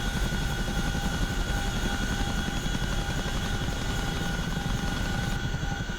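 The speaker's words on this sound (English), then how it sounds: "We are in the Chinook today." A CH-47 Chinook twin-rotor helicopter in DCS World makes a loud, steady rotor and turbine drone, a continuous dense thrum that fills the whole clip without a break.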